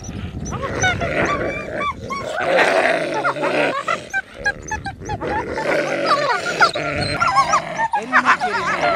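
Iberian wolves playing together, with a busy mix of close, loud yips, whines and growls in irregular bursts, along with scuffling, and a voice briefly audible among them.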